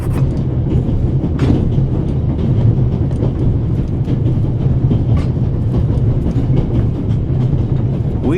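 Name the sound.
train on railroad, from video game The Raven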